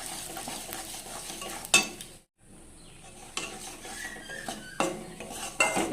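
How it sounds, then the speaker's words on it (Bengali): Gram flour being stirred in hot oil in a pan with whole cumin and cardamom, with soft frying sizzle and spoon scrapes against the metal, a brief silent gap, then renewed stirring with sharp clinks. "এবার এই তেলের মধ্যে দিয়ে দিচ্ছি 1 কাপ বেসন, দিয়ে এটাকে ভালো করে নেড়ে নিতে হবে।"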